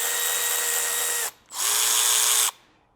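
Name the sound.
Milwaukee high speed 1/4 inch ratchet spinning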